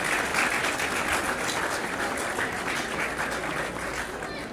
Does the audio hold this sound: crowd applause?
yes